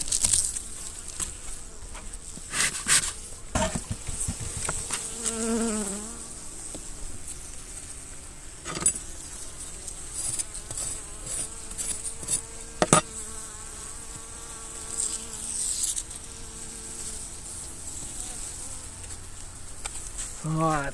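Honeybees buzz inside an overwintering nuc box opened in winter, a steady insect drone punctuated by clicks, knocks and handling noises, with a person talking at times.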